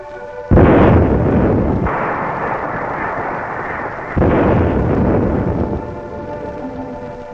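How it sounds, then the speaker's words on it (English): Dynamite blasts break up pack ice trapping a 1930s sailing ship, the Morrissey: two heavy booming detonations, each followed by a long rumbling roar that slowly fades, loud and close with no talking. "Only dynamite can break the grasp of the ice."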